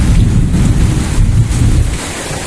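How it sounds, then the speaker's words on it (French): Thunderstorm with gusting wind and rain pounding a sailboat at anchor off Grenada, a loud steady low rumble and roar with no voices. "il y a un orage qui tourne autour, passe au-dessus de nous"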